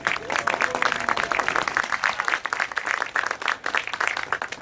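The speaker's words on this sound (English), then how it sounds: "Let's give them a round of applause" Applause from a community rally crowd supporting the NYPD, brisk clapping from many people that holds fairly steady and loud before tapering slightly.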